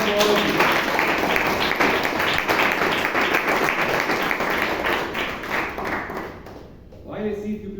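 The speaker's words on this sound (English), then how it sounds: "Can you round of applause for all of you?" Toastmasters meeting audience in Bangalore breaking into a round of applause, dense clapping that begins at once, slowly thins and dies away, and gives way to a voice speaking near the end.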